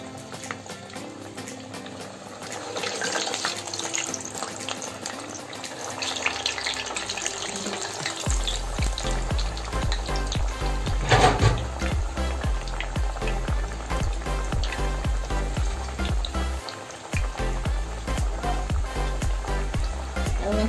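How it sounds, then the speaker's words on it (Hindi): Kakera pitha dumplings dropped into hot oil, the frying swelling to a dense, loud bubbling sizzle that runs on continuously with a low hum underneath. "मु एबे गोटी गोटी करी सब काकेरा को एमती दे देबी तेल रे"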